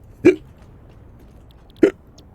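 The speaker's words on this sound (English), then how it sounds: "Fucking hiccups." Two sharp hiccups about 1.6 seconds apart, each a short abrupt vocal jolt heard close and alone over quiet background.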